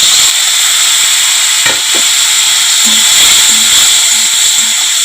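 Fried potatoes and water hit a hot, spiced pan, setting off a loud, steady hiss of steam close by, with a few faint clinks of utensils under it.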